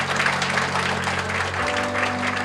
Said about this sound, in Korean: 박수가 필요할 것 같습니다.